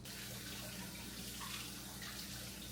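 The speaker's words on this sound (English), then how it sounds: "Let me go ahead and wash the cukes." Tap water runs steadily over cucumbers being washed at a kitchen sink, a close, continuous rushing splash with slight changes as the flow hits the vegetables.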